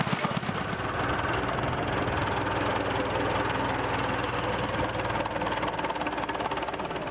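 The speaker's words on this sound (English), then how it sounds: "That's the Gardner stationary engine." A Gardner stationary engine runs steadily at idle at a steam gathering, a dense knocking chug with a constant rhythm, close and loud throughout with no voices.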